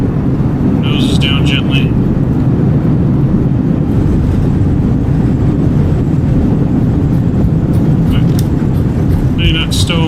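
An Airbus A320 on landing rollout in Microsoft Flight Simulator, with a steady loud roar from the engines in reverse thrust, a few short high chimes, and someone talking over the noise.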